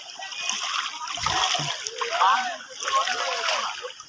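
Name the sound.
man jumping and splashing in floodwater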